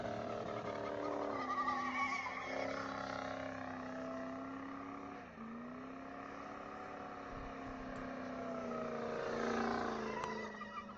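A Mitsubishi EVO 4G63 engine idles and revs, a steady droning hum whose pitch dips and bogs briefly mid-way before climbing again, moderately loud and running continuously with no talk.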